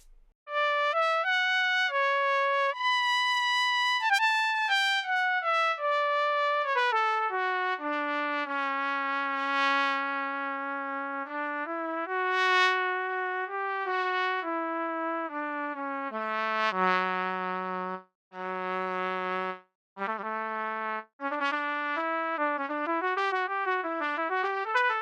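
A sampled trumpet and trombone patch with its attack softened plays a melodic line of sustained brass notes that glide and step downward into the low register, with brief gaps between phrases.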